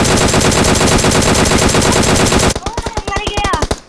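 Loud, rapid automatic gunfire in an online multiplayer shooter, a dense unbroken burst that gives way to slower separate shots near the end, with faint talk underneath.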